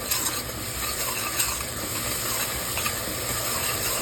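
A garlic, green chilli and coriander paste is stirred into mutton frying in a pan for a spicy mutton rasa. The sizzle is steady and close, with a spoon scraping through it, and nobody speaks.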